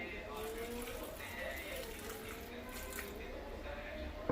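Water pours steadily into a blender jar holding tomatoes, salt and garlic for chutney, a continuous splashing gush with a faint background hum.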